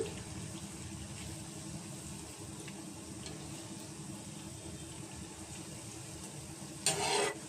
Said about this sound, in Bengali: কড়াইটা একটু ছোট, তার জন্য আস্তে আস্তে ভেজে নেব